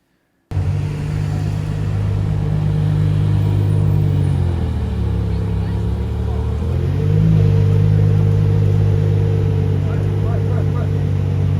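An exotic car rolls past on a Monaco street, its engine a steady, loud low rumble that dips briefly and then swells again as it passes close by.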